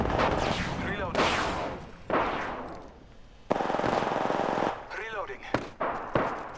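Rapid video game gunfire in a multiplayer shooter, loud bursts of automatic shots mixed with explosive impacts and game voice callouts, intense and close with brief pauses.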